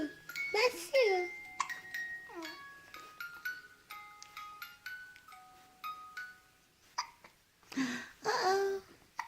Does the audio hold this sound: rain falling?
no